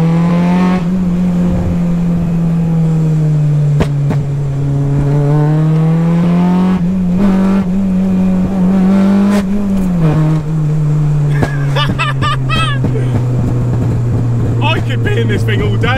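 A K20A2-swapped Honda Civic EG engine winds up hard through the gears, a loud close droning note rising and dipping with each shift, while people talk over it.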